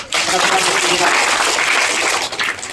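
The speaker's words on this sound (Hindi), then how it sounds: "एक बार फिर से जोरदार तालियों द्वारा" Vigorous applause from an audience at a school event, loud and dense throughout a few seconds, with a trace of voices beneath.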